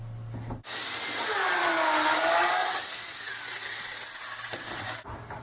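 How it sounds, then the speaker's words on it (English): A power drill bores a hole into wood for a dowel, one steady high whine of about four seconds that starts and stops abruptly, close and alone. "I'm just going to drill in dowels."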